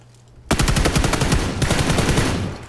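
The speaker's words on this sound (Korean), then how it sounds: "이러면 다른 애가 총소리 듣고 올 겁니다." Rapid automatic gunfire in the battle-royale game PUBG bursts in suddenly after a quiet moment, a long loud stream of closely spaced shots with a brief hitch midway, no talking.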